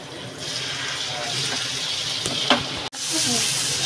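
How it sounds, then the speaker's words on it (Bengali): Chicken pieces fry in butter in a pan with a steady, close sizzle, plus brief clinks and handling noises partway through and a short break near the end. "দেখুন এইভাবে এক এক করে দিয়ে দেবো চিকেনগুলো ফ্রাই হওয়ার জন্য। আর এটা বাটারেই ফ্রাই করবেন"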